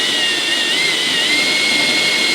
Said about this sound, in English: So that's the pilot hole drilled